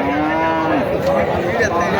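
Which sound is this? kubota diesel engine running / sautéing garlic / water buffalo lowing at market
water buffalo lowing at market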